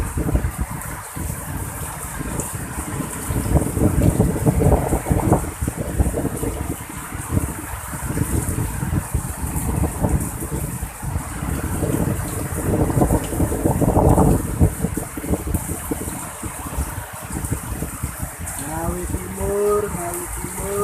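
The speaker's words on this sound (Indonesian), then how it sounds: "mulai angin kencang lagi di sore ini," Strong wind gusting with rain on an afternoon in East Ngawi, a constant loud roar of wind buffeting the microphone with rushing, hissing rain throughout and surges that swell and ease, without speech.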